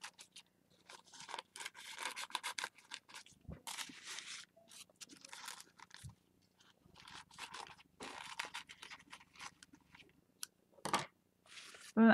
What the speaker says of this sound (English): grab my scissors and cut my corners down.